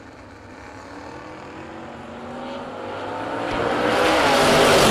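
Drag racing cars at a no box event, a Nova and a 1970 Chevelle, roar as a steady engine drone that swells louder toward the end of the run.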